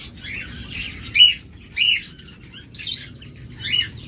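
Pet lovebirds or budgerigars, pairs kept for breeding, give sharp repeated chirps and short squawks in quick bursts about every half second, close and clear over a low steady background hum.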